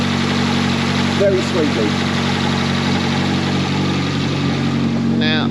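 Project Primera car engine idling steadily with a noisy exhaust that has a big hole in it, a continuous low rumble running throughout while a person talks over it.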